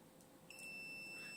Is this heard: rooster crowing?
no